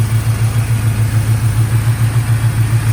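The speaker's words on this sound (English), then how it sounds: "You can see how it idles." A 1981 Chevrolet Camaro Z28 V8 with a mild cam and high-compression domed pistons idles steadily up close, its deep, even pulse loping rhythmically with no voices over it.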